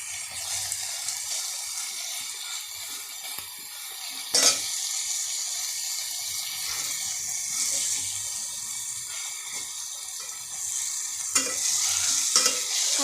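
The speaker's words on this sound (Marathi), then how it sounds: "मिरच्या टाकल्या, तळून घ्यायच्या मिरची." Green chilies frying in oil for biryani, a steady crackling sizzle close up, with occasional stirring clatter from a utensil against the pan.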